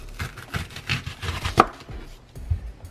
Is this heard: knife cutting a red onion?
yes